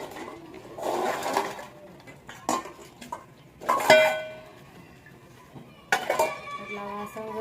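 Household utensils being scrubbed and washed by hand, with bursts of scraping and metallic clinks of pots and dishes coming in uneven spurts, close by, with a voice talking in between.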